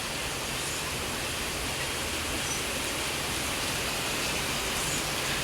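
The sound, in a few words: heavy afternoon rain outside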